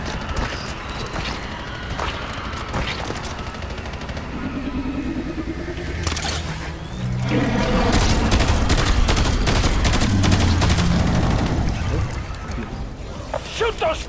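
Gunfire in the Black Ops 7 co-op campaign, scattered shots and bursts running under dense game noise and a stretch of heavier rumbling action, with players talking over it.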